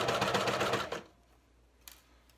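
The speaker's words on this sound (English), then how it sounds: "So I'm just gonna go ahead and get started stitching." A sewing machine stitches knit binding in a quick, soft rattling burst for about a second, close by, then stops, leaving near silence with a faint click.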